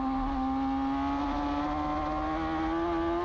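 A superbike racing motorcycle crosses the finish line in a Pro Superbike race, its high, sustained engine whine holding steady with a slowly rising pitch and rich harmonics, loud and continuous with no voices.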